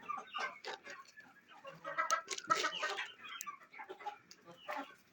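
Chickens cluck in quick, overlapping bursts, a small flock close by pecking and chattering with no one speaking.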